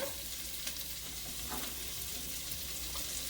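Onions and garlic frying in a hot skillet over medium heat, a dense continuous sizzle close by with faint stirring taps, no voices.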